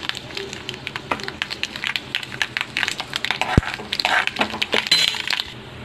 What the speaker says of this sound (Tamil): கடுகு வந்து நமக்கு ஸ்ப்ரிங்கில் ஆயிடுச்சுங்க